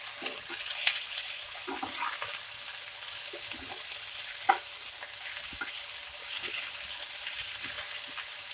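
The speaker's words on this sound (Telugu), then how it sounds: "ఇంకొకసారి బాగా మిక్స్ చేసుకున్నాను." Semiya upma being stirred as it fries in a pan, with a steady soft sizzle and scraping, plus a few sharp clinks of the spoon against the metal.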